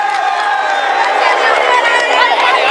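Roadside crowd cheering the race leader climbing the Col de Pailheres on stage 8 of the 2013 Tour de France, a loud continuous roar of shouts and whoops, with a commentator talking over it.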